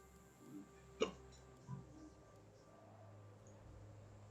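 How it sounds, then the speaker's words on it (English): A person hiccups, one sharp, sudden hiccup followed by a softer one about a second later, close and clear over a quiet background hum. "I just got hiccups."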